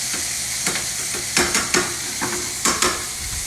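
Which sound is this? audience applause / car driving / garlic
garlic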